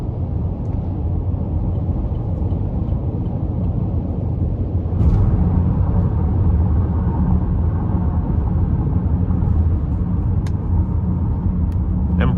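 A 2020 Chevy Blazer with a 2.5-liter non-turbo four-cylinder cruises an interstate at 70 mph. Steady, loud road and wind rumble fills the cabin, growing slightly heavier midway.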